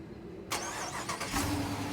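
A 2019 Chrysler 300S V8 with its hood open starts up after a quiet moment: a sharp crank catches into a rumbling idle that swells briefly, recorded close and without talk.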